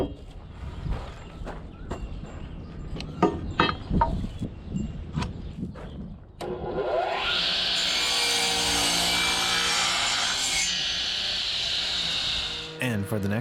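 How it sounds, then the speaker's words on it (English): Wooden 4x4 posts being cut to length on a power saw, a sustained loud whining cut of several seconds after scattered knocks and handling thumps of the wood being positioned. "we're going to start off by cutting some 4x4s I have in my wood arsenal to length"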